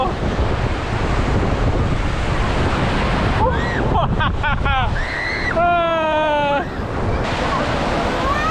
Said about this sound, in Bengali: এই যে ঢেউ